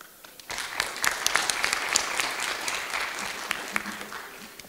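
Applause from a conference audience: a dense, steady patter of many hands clapping, starting after a brief quiet moment and holding at a moderate, even level throughout.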